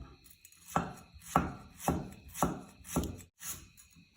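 A knife thinly slices firm lemongrass stalks on a board, five or six crisp, evenly spaced cuts close by, with no talking.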